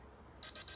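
A workout interval timer beeps in short, evenly spaced electronic pulses, faint and thin, starting partway through against a quiet background.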